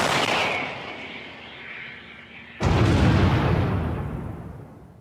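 A Bohdana self-propelled howitzer fires with a heavy blast that booms nearby and fades, followed by a second powerful shot with a long rumbling decay.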